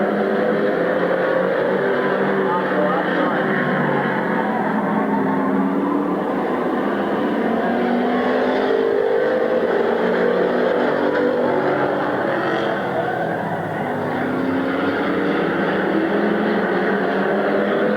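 Race cars roar around the oval at Midvale Speedway, a continuous loud engine drone whose pitch rises and falls as the pack passes, sustained for the whole stretch.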